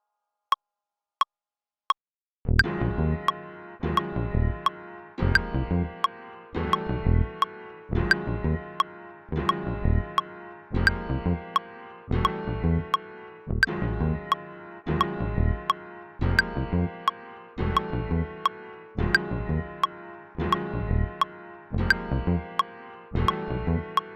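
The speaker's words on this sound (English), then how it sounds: "the bass line together should sound something like this" A few sharp clicks, then a steady electric bass guitar line of plucked notes repeating in an even rhythm, moderately loud with no voices.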